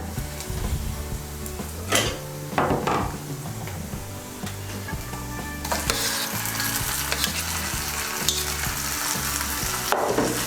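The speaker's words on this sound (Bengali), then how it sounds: "এখন আমি এর মধ্যে দিয়ে দেব বেগুন পোড়াটা" Roasted eggplant gets stirred into onions frying in hot oil, giving a loud, continuous sizzle with scraping and knocking of a spatula against the pan, and the frying surges brighter partway through.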